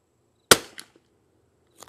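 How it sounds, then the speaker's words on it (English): A single sharp rimfire rifle shot using Lapua Xact ammunition, fired from a Lithgow LA101 or CZ 455 with a Walther barrel, loud and close, followed by a quick decaying echo and a faint click a second later. "this is the fifth shot. Last shot on this target."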